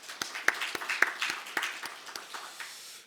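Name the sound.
church congregation applauding the teachers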